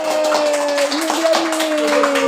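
A crowd of people applauds steadily at a construction team's gathering, a sustained patter of many hands clapping at once over a loud, continuous tonal drone.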